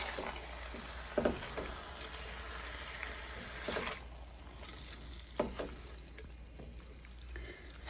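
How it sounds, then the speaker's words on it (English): Garlic, cardamom, salt and tandoori masala sizzle in a pan while being stirred, a soft steady frying hiss broken by a few scraping clinks of the spoon. "Give it a quick stir."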